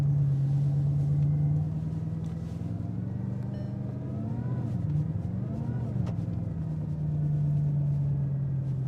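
A Bugatti Chiron Sport hypercar, its 1500 hp engine in drive and pulling away, gives a steady, deep engine drone that swells slightly midway, heard close and continuous.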